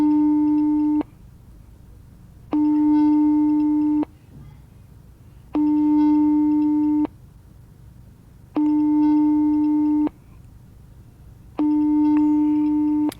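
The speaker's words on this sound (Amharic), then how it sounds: "ይኸው እየጠራ ነው" A telephone ringback tone repeats five times: steady, buzzy tones about a second long, each followed by a short silence, clear and close.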